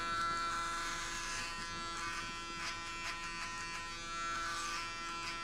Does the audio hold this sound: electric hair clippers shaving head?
yes